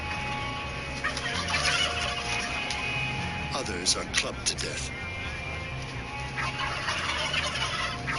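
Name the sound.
chickens clucking and turkeys gobbling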